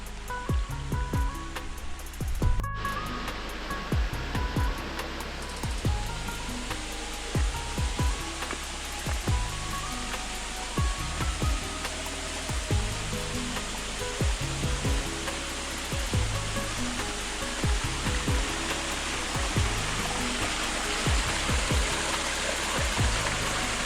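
A stream rushes beside houses near Karagöl lake in Borçka, Artvin, a constant loud broadband water roar close by, punctuated by regular low knocks and a sharp click near the start.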